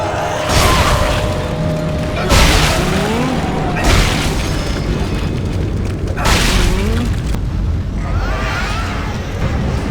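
Explosions in the video game Dead Space 2 boom out repeatedly, loud and close, with about four big blasts over a steady rumbling background of gameplay noise.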